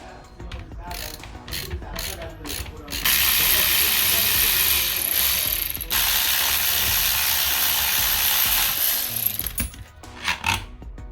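A ratchet wrench removes a 13mm bolt from a 2011 SEAT Leon clutch master cylinder held in a vise: quick bursts of ratchet clicking near the start and end, with a loud steady hiss between them.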